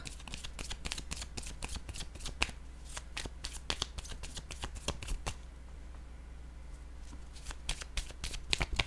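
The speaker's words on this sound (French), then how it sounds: "Je vais déposer une carte sur contrôle, encore." Tarot cards are shuffled and laid down in a quick run of crisp, close riffling snaps and soft slaps that keep going throughout.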